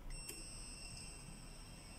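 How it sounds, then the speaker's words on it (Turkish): Multimeter continuity tester on a 12V 10A LED power supply board with a working fuse, giving a thin, steady high-pitched beep that holds faint but continuous over background hiss. "Bip sesi biraz zayıf arkadaşlar ama şu an için sigortamız çalışıyor."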